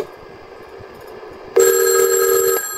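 A telephone rings once after a quiet stretch, a single loud electronic ring lasting about a second, close and alone with no talking.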